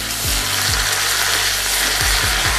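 Ginger garlic paste sautéing with golden brown onions, a steady close sizzle with a few low scraping thumps from stirring, no voices.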